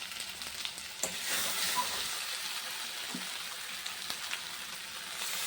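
Spices sizzling in hot oil with Kashmiri chilli powder, turmeric and salt, a soft continuous crackle and hiss with occasional stirring clinks, fairly quiet and close.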